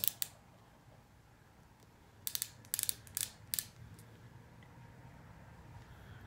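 A twist-up highlighter stick is clicked repeatedly to push out product, a quiet room with two brief clicks at first, then a cluster of sharp close clicks in quick succession.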